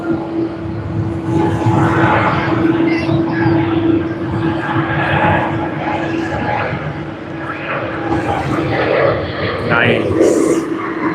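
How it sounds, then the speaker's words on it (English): A Boeing 787-8 Dreamliner jet at Sydney Airport gives a steady, moderately loud engine drone with a sustained whine, heard at a distance with voices talking over it. "let's pan around for the Boeing 787-8 Dreamliner to Ho Chi Minh City"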